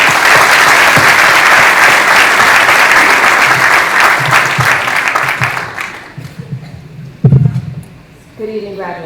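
Loud audience applause at a graduation ceremony welcoming a speaker, sustained clapping that fades after several seconds, followed by a few loud thumps and the start of a voice.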